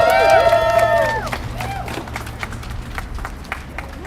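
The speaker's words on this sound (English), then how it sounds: "Give it a round of applause." A crowd at an outdoor protest rally against an anti-terror bill cheers with high whoops and shouts, then breaks into scattered, sharp clapping that continues at a moderate level.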